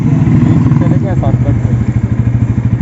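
A motorcycle engine runs with a steady, rumbling putter close by, while someone talks over it.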